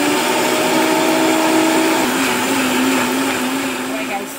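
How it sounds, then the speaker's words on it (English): A blender whirs continuously at high speed, blending garlic with water in a steady, loud motor drone that dips slightly near the end. "Go ahead and blend this."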